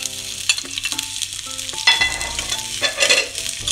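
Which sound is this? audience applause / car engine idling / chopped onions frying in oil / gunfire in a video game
chopped onions frying in oil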